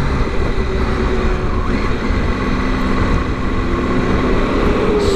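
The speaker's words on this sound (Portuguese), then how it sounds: "E o som do motor?" A 2020 Triumph Tiger 800 motorcycle engine idles and hums steadily amid busy Saturday street traffic, a continuous moderate drone with general road noise around it.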